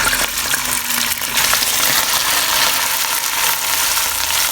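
Already boiled rice hits hot ghee with cloves and cardamom in a pan, a loud close hiss and sizzle of frying that stays steady with some stirring rustle, no talking.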